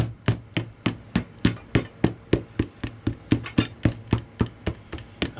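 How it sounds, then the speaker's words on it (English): A hammer taps a Vibram 1276 Sierra sole onto a Carolina work boot being resoled. About twenty close, sharp strikes fall in a steady, even rhythm, alone with no talk. "I always like to hammer out the center and make sure to get out as many air pockets as possible"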